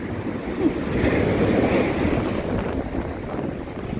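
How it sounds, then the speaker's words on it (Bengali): Sea waves roar and crash against the shore in Italy, a loud wash of surf with heavy wind buffeting the microphone, rising and falling across the whole stretch. "সমুদ্রের গর্জন"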